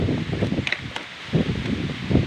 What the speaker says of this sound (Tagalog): ikot hangin po kayo mga idulo oh grabe ka hangin yun